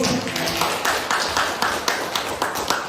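Audience applause at a teachers' presentation session: a short burst of steady, fairly close clapping from a modest group of hands, with an even, rapid rhythm.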